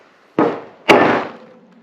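Two sharp, loud bangs about half a second apart as an end cap is knocked onto a closet rod during a DIY installation, each hit ringing out briefly.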